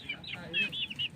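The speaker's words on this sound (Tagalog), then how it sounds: "Yung mga sisiw." Chicks cheep in a rapid run of high, thin calls, with soft clucking and faint voices in the background.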